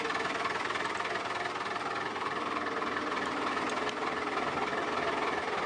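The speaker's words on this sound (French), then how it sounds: "Le moteur démarre en quelques secondes." Engine of a 22 m Dutch Luxemotor barge running after start-up, a steady, dense mechanical rumble with rapid knocking, loud and constant throughout with no talk.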